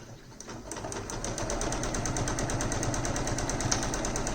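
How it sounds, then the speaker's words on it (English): A sewing machine runs steadily, its needle stitching in a fast, even mechanical rhythm, close and continuous without pause. "So here I am back at the sewing machine, ready to sew the clipped edge of rows 1 and 2 together"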